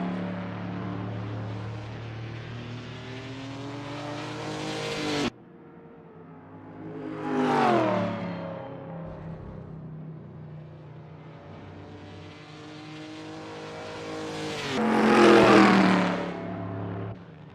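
A historic race car laps the Rouen-les-Essarts circuit in the Assetto Corsa racing game, its engine droning loud and close, with gear changes and repeated rising and falling revs as it passes through corners.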